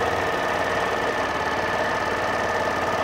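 A Suzuki Access 125 BS6 scooter engine idles at high RPM, around 2200 to 2300, with a steady, even mechanical drone and a rapid low pulsing that stays constant throughout, close up and alone.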